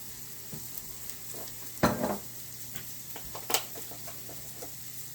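Butter sizzles and fries in a pan, a steady soft crackling hiss with a couple of louder stirring clatters partway through, close by and with no talk.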